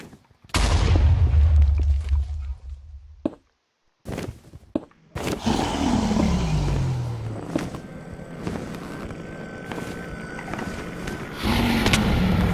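Loud explosions from a Minecraft game: a heavy blast with a long rumbling tail, a brief cut to silence, then another burst of booming and crackling debris that keeps rumbling to the end.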